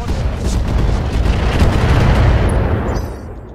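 A Warlord mech in the game Roguetech fires a weapons volley: a loud, dense barrage of booming blasts and rumbling impacts rolling continuously for a few seconds, then tapering off, with no talk.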